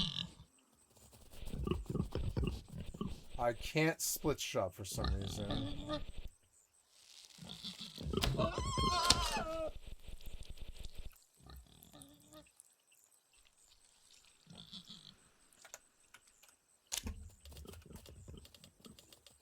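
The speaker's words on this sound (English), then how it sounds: "There's a pig. Let's kill him." Pigs in a video game grunt and squeal in short bursts between stretches of quiet, mixed with rapid keyboard clicking as a person talks now and then.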